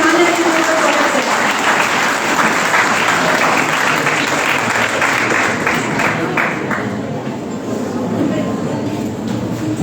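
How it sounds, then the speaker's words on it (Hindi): An audience at a national workshop applauds to welcome honoured guests onto the stage: loud, dense, sustained clapping from a large crowd that fills the whole stretch and eases slightly toward the end. "जोरदार तालियों के साथ हमारे सम्मानित अतिथियों का स्वागत करें।"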